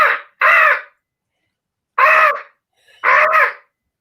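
A voice imitates a crow, giving four loud, harsh caws in short separate bursts with silent gaps between them.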